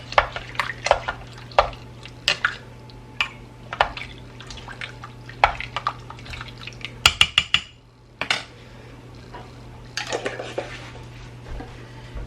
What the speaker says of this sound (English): Just kind of start to give this a little bit of a stir